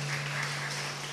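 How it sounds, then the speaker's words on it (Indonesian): Children at a Sunday school Christmas program in an Indonesian church clap their hands together, a brief dense patter of applause heard over a steady low hum. "Ayo tepuk tangan."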